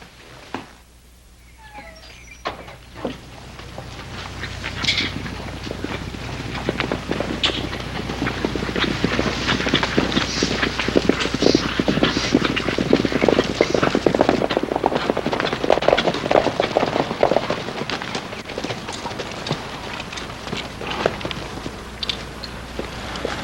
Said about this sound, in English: Saddle my horse for me, will you?